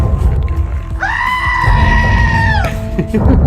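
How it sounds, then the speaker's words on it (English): A goat bleating sound effect gives one long, wavering, nasal bleat that holds for about a second and a half, then cuts off. Background talk and other sound carry on underneath. "Thanks for feeding the goat."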